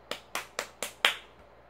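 Five sharp hand claps in a steady, quick rhythm, close and fairly quiet, each with a crisp snap and short decay, with no talking.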